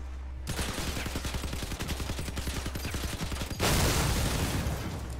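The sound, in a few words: video game machine guns firing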